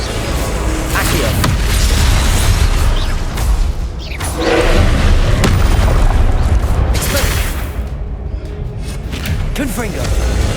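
Confringo spell explosions in the Hogwarts Legacy video game, loud repeated fiery booms and whooshes in a continuous dense battle mix, with a voice calling out over the fighting.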